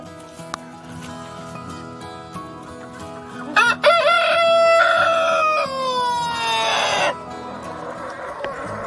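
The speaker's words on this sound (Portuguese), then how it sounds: "Essas galinhas são produtivas e são bem resistentes." A rooster crows loudly and nearby over steady clucking from a flock of productive, hardy breeding hens in a farm pen, the crow rising sharply midway and trailing off.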